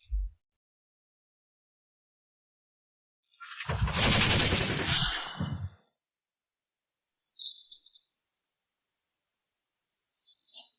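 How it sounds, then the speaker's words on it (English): Automatic machine gunfire in an animated fantasy battle ambush, a dense loud burst of rapid shots lasting about two seconds, followed by scattered crackling and a high hissing tail. "These firearms are devastating."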